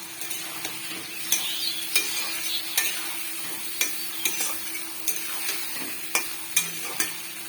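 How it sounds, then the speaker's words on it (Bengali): Onion with a little sugar sizzles in a pan under a soft, steady fry, while a spatula scrapes and taps the pan in regular sharp clicks about every half second. "এখন ভালো করে লাল লাল করে ভেজে নিতে হবে পেঁয়াজটা"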